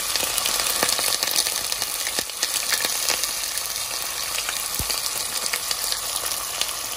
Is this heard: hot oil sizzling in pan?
yes